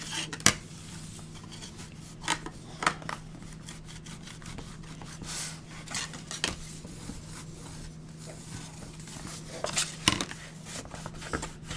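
Scraping and pressing of a large spatula smoothing glued paper onto a handmade mini book, giving soft rubbing sounds broken by a few sharp clicks and taps, close up with no talk.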